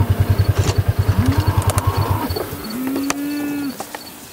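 Farm cows moo in long low calls over a steady thumping engine idle nearby, with occasional clatter in the yard.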